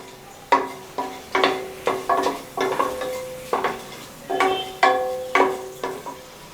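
Whole spices such as star anise, marathi moggu and cloves for a mutton kurma are tempering in hot oil in a pan, with repeated sharp clinks and stirring scrapes over a faint sizzle, close up with no talking.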